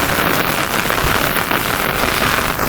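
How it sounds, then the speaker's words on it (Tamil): Rain falls steadily at the Sivan temple in Thellur, an even, close hiss of drops striking surfaces with a few heavier drips, no talking. "நம்ம பாருங்களேன் தொடர்ந்து பேஞ்சிக்கிட்டே இருக்குங்க மழையை வந்து"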